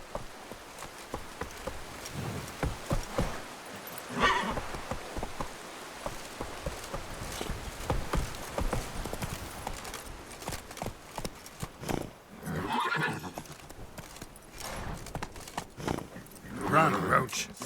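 Hoofbeats of the horse Roach galloping in The Witcher 3, a steady near clip-clop rhythm over pattering rain and insect hum, with a few brief voice bursts.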